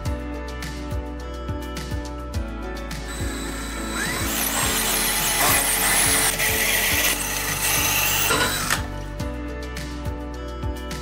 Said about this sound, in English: make sure that that drill bit goes in where it's supposed to